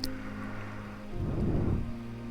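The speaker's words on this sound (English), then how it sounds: "Just rain, rain, rain." Steady outdoor rain falls over a garden allotment area in Poland, a continuous hiss with a brief heavier swell in the middle.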